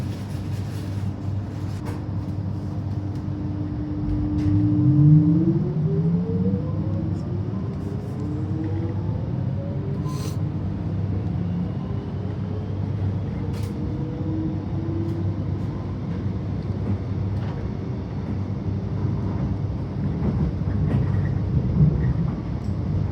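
A train on Melbourne's Williamstown line passes with a steady low rumble and rolling noise, a rising tone partway through and faint clicks of wheels, moderately distant and without talk.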